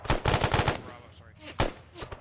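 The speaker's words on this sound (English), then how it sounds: "Who took that shot?" ARMA 3 gunfire: a rapid string of loud, close shots, then a pause and a couple more sharp single reports, against faint background sound.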